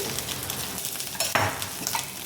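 Suji bun dosa frying in oil in a covered pan gives a dense, close sizzle with a brief clatter of the lid or utensil midway.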